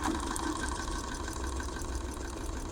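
Bernina sewing machine running a straight stitch, a steady close mechanical hum with a fast, even chattering pulse.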